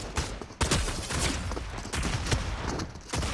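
Pump shotgun fire in Fortnite, with several sharp, loud blasts spaced about a second apart against a busy game background.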